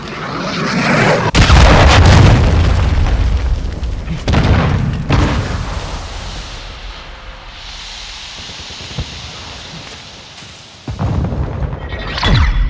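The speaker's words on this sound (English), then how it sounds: "Friendly cruise missile approaching target" A cruise missile strike in the video game Modern Warfare 2 during Hardpoint: loud booming blasts with a long rumbling tail and a final burst near the end, no speech.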